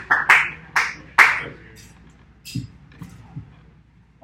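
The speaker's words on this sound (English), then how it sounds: "Give him a round of applause." A few hands clap for a first-time speaker at a small DEFCON 402 hacker-group talk: three or four sharp, close claps in quick succession, then faint scattered sounds and murmurs in a mostly quiet room.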